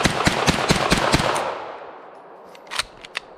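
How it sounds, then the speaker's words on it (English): HK SP5 semi-automatic pistol firing, with about seven loud, close shots in quick succession whose echoes fade out. Two more sharp shots follow after a short pause. "the first shots through this gun"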